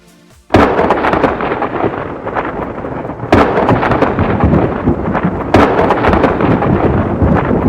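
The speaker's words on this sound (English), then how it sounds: "here you're going to type thunder, and here you have all sorts of thunder sounds" Rolling thunder from the Counter-Strike 2 Hammer editor's sound library, a loud sustained rumble with a sharp crack that sets it off and two more surging booms partway through, steady and close with no talking.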